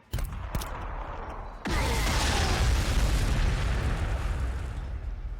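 Frag grenade blasts in the Warhammer 40,000: Sanctus Reach strategy game: a couple of quick pops, then a loud, sustained explosive roar with rumbling debris that lingers steadily to the end.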